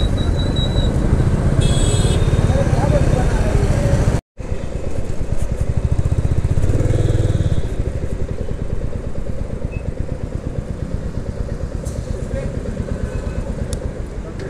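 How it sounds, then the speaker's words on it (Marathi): City traffic in Pune heard from a Royal Enfield Meteor motorcycle on the move, a loud continuous engine rumble with road noise that drops out briefly once, while a rider talks over it. "भयानक ट्रॅफिक आहे पुण्यात, भयानक"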